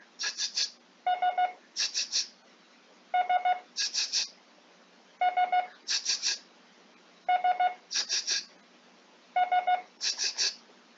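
Five groups of three quick short beeps, the Morse code letter S, each group alternating with a burst of hissy noise, repeating steadily and loud.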